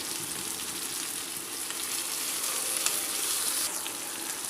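Chopped onions and tomatoes sizzle in a pan, salted so they soften quickly, while cooking for Madurai mutton chukka. The frying is steady, close and hissing, with faint stirring scrapes and no speech.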